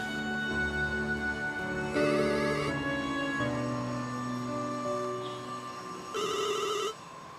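A telephone ringtone plays loud and close in repeated melodic bursts, the ringing sustained for several seconds with a brief pause before another burst, with no talking.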